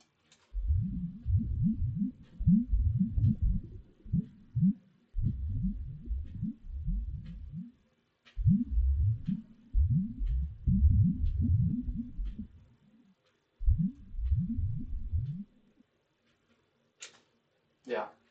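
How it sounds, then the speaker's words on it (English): Deep, bubbling lava ambience for a video game comes in clusters of thick, low gurgling pops, separated by short silent gaps, with no voices present. "tried to give it like a like deeper sort of lava bubbly sounds"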